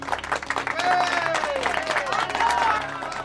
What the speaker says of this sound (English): The class claps for their classmates.